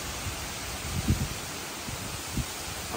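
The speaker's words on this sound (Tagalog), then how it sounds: "Malakas ang hangin" Steady broadband roar of strong typhoon wind blowing without letup, with occasional low gusty buffets hitting the microphone.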